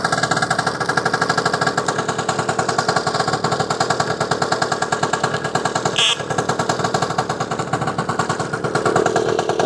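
A 1962 Lambretta Series 2 186cc two-stroke scooter engine idling on choke while warming up, a loud, steady, rapid popping putter that runs throughout with one brief sharp blip.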